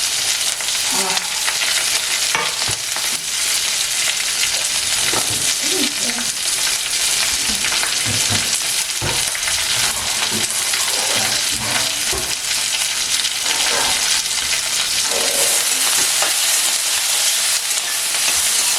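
Green chillies and onion frying in a pan for a Malenadu-style chicken pepper dry, with a steady close sizzle and scattered stirring scrapes throughout, no voices.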